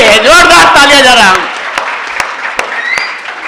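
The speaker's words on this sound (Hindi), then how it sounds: "जोरदार तालियां जरा।" An audience at a poetry gathering claps, sustained applause heard behind a loud voice at first, then thinning to scattered claps in a quieter room.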